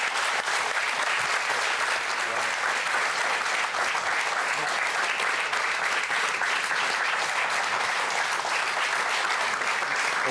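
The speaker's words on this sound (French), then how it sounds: "On peut l'applaudir." Audience in a television studio applauding loudly and continuously, a dense sustained clapping that fills the room for the whole stretch with a faint voice beneath it.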